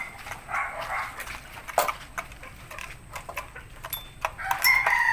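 A rooster crows amid backyard farm clucking and background bird calls, with scattered short bursts of fowl noise.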